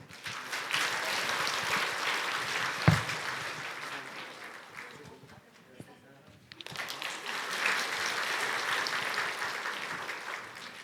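A church congregation at a Sunday service applauds student award winners, clapping in two sustained rounds separated by a short quieter gap with some speech.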